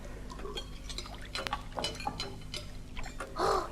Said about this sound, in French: Il boit ça d'un seul coup, sans reprendre haleine.